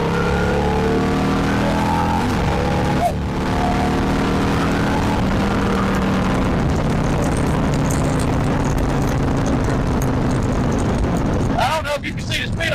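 A Harley-Davidson Road Glide with a 122ci Stage 3 engine pulls hard in second gear from about 2,500 RPM, its loud exhaust note climbing steadily in pitch amid heavy wind rush.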